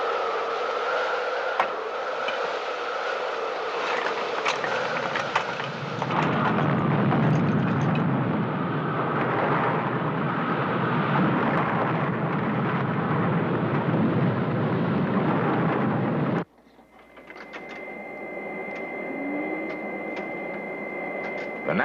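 Simulated tornado wind in a laboratory model city, a loud roaring rush of air that builds and persists for about sixteen seconds, then cuts off abruptly, leaving a quieter hum.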